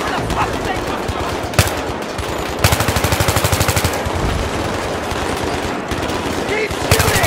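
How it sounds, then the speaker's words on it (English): Battlefield 3 combat roars with sustained automatic gunfire and scattered shots, loud and close, one steady rapid burst cutting through a constant wash of battle noise. "Keep shooting!"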